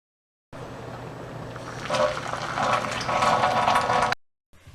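Water pouring from an electric kettle into a container for boil washing doll hair, a steady close liquid rush that swells and splashes louder before stopping abruptly.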